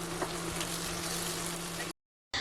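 Ginger-garlic paste sizzles steadily in hot oil with browned onions for a chicken dish, a continuous close frying hiss with a faint low hum that cuts out briefly near the end.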